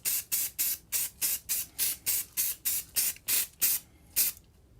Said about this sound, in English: all you're gonna do is spray paint